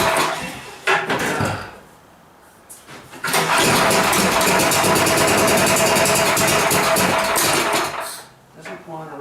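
An old snow blower engine cranks and catches, then runs loudly and roughly at a steady pitch without revving up, before dying down near the end, with a few spoken remarks around it.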